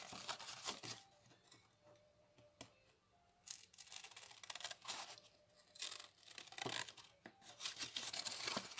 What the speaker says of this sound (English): And cut straight across. If one can get one's scissors in one's place.